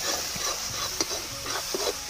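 Chickpea and mashed potato masala stir-fried in a pan over a rustic clay wood-fired stove, with a steady sizzle broken by a few soft scraping stirs, close and moderately loud with no talking.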